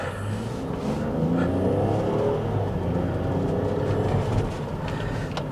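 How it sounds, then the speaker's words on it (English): A 2012 Chevrolet Captiva accelerating during a test run, a steady engine drone with rising tones heard from inside the cabin at moderate level, no speech. "I'm going to do an acceleration test with you."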